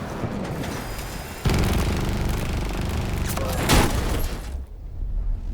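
Vehicle-mounted gunfire in Battlefield 2042: a steady, dense stream of loud automatic shots with booming impacts that stops abruptly near the end.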